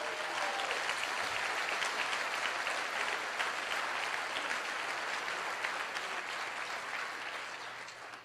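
A large audience at a motivational talk claps loudly and continuously in a dense, even burst that holds for several seconds before tapering slightly at the end.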